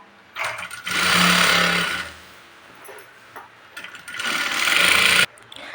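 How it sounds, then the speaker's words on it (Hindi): A sewing machine stitches buckram onto a patiala salwar in two loud bursts of rapid mechanical whirring, close up, separated by a short quiet pause with faint handling noise. "तो यहाँ पे ऊपर के साइड से एक सिलाई लगाएंगे सीधा"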